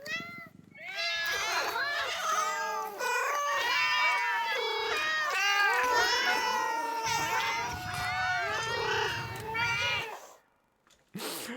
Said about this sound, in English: Next one is Henry,